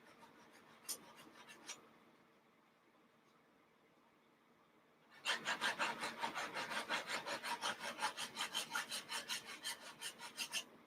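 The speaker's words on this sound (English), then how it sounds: "Sanding down the edge of that tail right there." Repeated rhythmic rasping strokes of sanding against the plastic tail edge of a Monogram PBY model kit, close and fairly loud, starting after a few quiet seconds with a couple of earlier scrapes.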